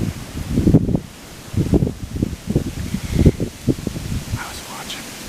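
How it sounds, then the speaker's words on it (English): Wind gusts through the Minnesota big woods in October, rustling leaves and buffeting the microphone in uneven, low surges, with soft talk mixed in. "As you can see, it's windy."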